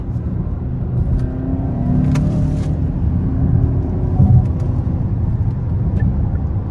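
A 2023 Hyundai Santa Fe Calligraphy with the 2.5T engine accelerating in sport mode, a close, loud engine roar rising steadily with the revs, heard from inside the cabin.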